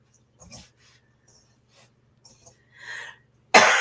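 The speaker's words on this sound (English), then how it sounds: "please excuse me with the coughing. I got that 100-day cough thing, and it's just not going away." In a home kitchen, a person with a lingering cough makes a few soft throat noises and breaths, then a sudden loud, harsh cough bursts out close at the end.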